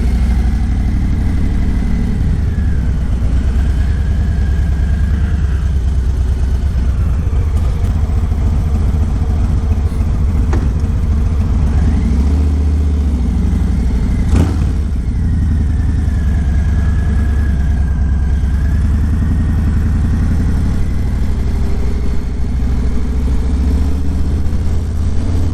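Steady, loud street traffic in the old town of Los Alcázares, Spain, with car and motorcycle engines idling and revving close by in a continuous drone, occasional passing vehicles rising and fading.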